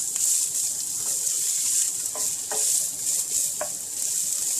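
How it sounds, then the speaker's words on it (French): Garlic and carrots frying in a pan, a bright continuous hiss of sizzling oil with a few light scrapes and taps of a utensil stirring, close and steady. "Donc on mélange une fois qu'on a mis l'ail et les carottes."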